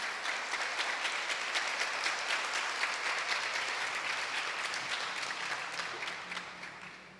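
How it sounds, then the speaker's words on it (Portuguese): A church congregation claps during a Portuguese-language sermon, sustained full applause heard from within the room, moderately distant and fading slightly toward the end, with no talking on top. "Você pode aplaudir o nome de Jesus."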